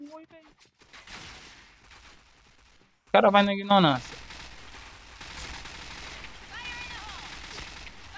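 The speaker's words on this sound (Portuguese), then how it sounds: "rajada de tiro no cara, o cara nem falece" A short, loud burst of rapid gunfire in the Point Blank shooter game, a sharp crackling volley about a second long that breaks through a quiet stretch, with someone talking before and after it.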